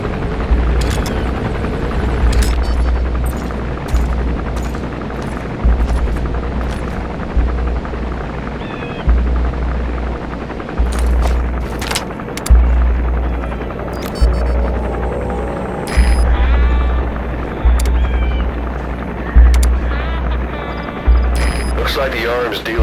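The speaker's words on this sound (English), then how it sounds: "Looks like the arms dealer's chopper is gonna patrol for the security forces." A helicopter in a Metal Gear game patrols overhead, its steady rotor throb pulsing loudly throughout while a voice talks over it.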